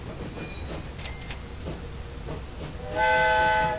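A train in the Transport Fever game rolls along with a low rumble, with brief high squeals early on and a louder tonal whistle-like blast rising near the end.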